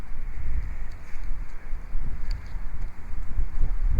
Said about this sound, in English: It's pretty windy, so I should be able to get some good waves crashing.